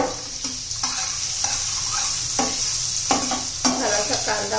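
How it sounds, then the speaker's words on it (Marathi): Onion sautéed on a tawa for egg masala fry, with a loud, close sizzle under repeated scraping strokes of a spatula in an irregular stirring rhythm. "थोडासा कांदा आपला कच्चेपणा जाईपर्यंत परतून घ्यायचा आहे"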